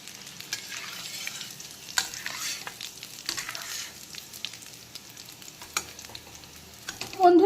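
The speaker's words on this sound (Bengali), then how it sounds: "কাজু কিশমিশটাকে কিন্তু এইভাবে ভেজে তারপরে দিতে হবে" Cashews and raisins frying in hot oil, stirred with a utensil, for a Bengali muri ghonto dish with katla fish head; a steady close sizzle with scraping stir strokes and a louder burst at the end.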